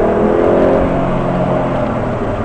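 Alfa Romeo Brera accelerating on a driving course, a loud, steady engine roar heard from close up, holding pitch as the throttle stays open.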